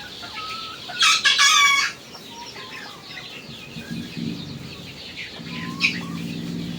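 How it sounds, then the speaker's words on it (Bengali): A loud rooster crows once near the start, then backyard hens, among them three large ones, cluck softly and intermittently close by, with a brief squawk toward the end. "এখানে বড় মুরগি আছে 3টা"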